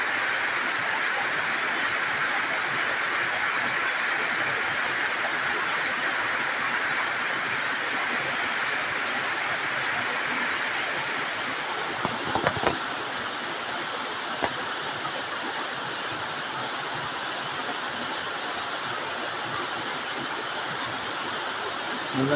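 Floodwater from a farm-field stream rushes in a steady, loud broadband roar throughout, with a couple of brief knocks near the middle, on a rainy day with flooding fields.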